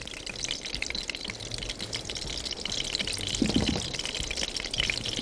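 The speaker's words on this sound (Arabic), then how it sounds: "انا عايزه احط باقي السمن ده على اللحمه" Ghee being poured over meat in a cooking pot gives a soft, continuous trickle with faint sizzling, low in level and steady throughout, with no voices.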